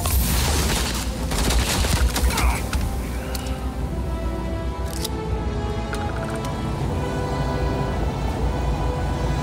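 Gunfire in the video game Starfield, dense rapid bursts of shots over a loud, busy combat soundscape lasting throughout, with a few sharper cracks early on.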